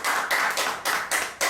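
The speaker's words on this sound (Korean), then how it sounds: "박수 한번 보내주시죠" Audience applause in a Korean speech lecture hall, steady dense clapping swelling in several bursts with short dips between, loud and close with no talking over it.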